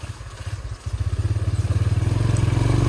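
Motorcycle fitted with a Diablo GL100 crankshaft climbing a steep hill in gear, its engine loud and close with a fast, even thumping pulse that builds steadily as it pulls.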